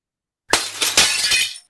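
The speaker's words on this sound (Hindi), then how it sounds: "लेट्स से कि भाई ये कांच का ग्लास जो है वो टूट जाता है।" A glass tumbler breaking: a sudden loud shatter followed by a second burst of crashing shards and a brief tinkling decay, close and alone with no voices.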